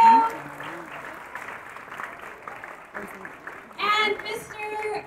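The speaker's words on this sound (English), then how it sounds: "let's give a big applause for the crew." Applause for the crew at a children's dance recital, moderate clapping from an audience under a speaking voice, swelling louder toward the end.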